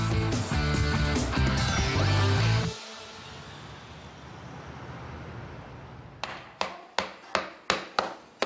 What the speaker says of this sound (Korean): 뼈를 망치로 내려치는 작업자.